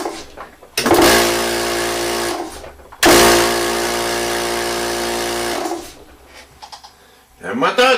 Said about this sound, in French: Le moteur tourne numéro 1.